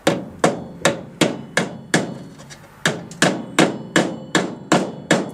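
A hammer raps a Mk3 Ford Cortina Estate body panel in a steady run of about a dozen sharp metallic taps, close and fairly loud, with one short gap partway through.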